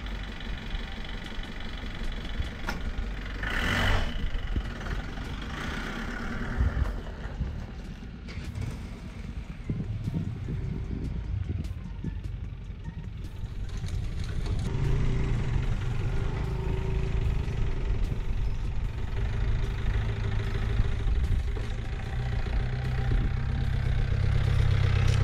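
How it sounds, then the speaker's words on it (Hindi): A 1999 Mahindra Marshal jeep with a Thar-type engine idles steadily for about 25 seconds, a loud, continuous low rumble that grows slightly fuller and heavier in the second half, with no talk over it. "आप गाड़ी की आवाज सुनो।"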